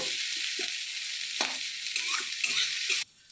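Onions sizzle steadily in a pan for a leafy jute greens dish, with soft scraping stirs breaking through the constant frying hiss until the sound cuts off abruptly near the end.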